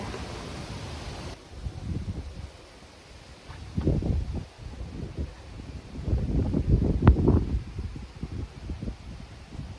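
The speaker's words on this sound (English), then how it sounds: "the wind doesn't seem to want to give in" Strong gusty wind buffets an outdoor farmers market setup, roaring and rustling in surges that swell and fade, loudest in bursts near the middle and end, with no talk.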